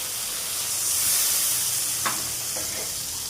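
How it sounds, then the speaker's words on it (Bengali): Bowl rinse water poured into a hot frying pan of mustard-based chapila fish gravy, giving a steady close hiss and sizzle with a couple of faint clinks near the end. "বাটি ধুয়ে জলটা দিয়ে দিই।"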